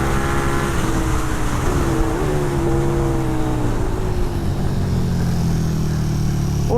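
A 2020 KTM 1290 Super Duke R on a track lap, its engine droning loud and close on board, with the pitch rising and falling through gear changes as the bike accelerates.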